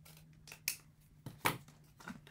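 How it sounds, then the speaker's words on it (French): Scissors snip through paper during a scrapbooking craft session, several short, crisp cuts spaced irregularly, close and fairly quiet, with no voices. "Je vais prendre ma paire de ciseaux."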